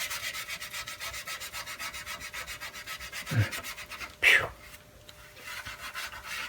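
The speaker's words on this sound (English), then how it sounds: "it's kind of got to scrub it a little bit" A Zebco 2600 camp stove is scrubbed by hand to loosen grime, a close, steady rasping rub in quick even strokes, broken by a thump and a brief louder scrape near the middle.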